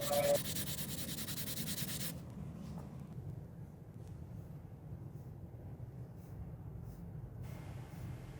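A putty rubber rubs surface charcoal off paper with soft, continuous scrubbing strokes, faint and close, after a brief brighter scratchy passage at the start.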